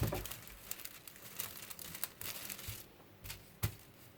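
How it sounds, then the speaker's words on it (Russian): A plastic baking bag being handled and crinkled, a continuous rustling with sharp crackles and one louder crunch near the end, close by with no talk. "Хвостик я буду делать шуршащий. Я для этого возьму пакет для запекания."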